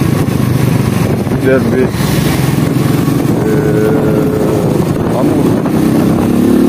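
A 110cc Cup motorcycle engine hums steadily while riding through Alanya, a continuous close drone running under a man's speech throughout.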